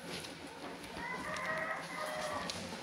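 A breeding hen and other chickens cluck and crow at a moderate distance, with one drawn-out call in the middle, over quiet farmyard background.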